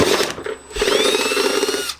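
A power drill bores through the hood of a Lexus SC300 Turbo to fit hood pins, a loud close whining buzz that rises in pitch and holds steady for about two seconds before cutting off.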